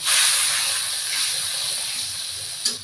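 Chili and cumin paste with a splash of water hitting fried onions in a pan, giving a steady, close hissing sizzle that eases slightly over time, with a brief sharper spit near the end.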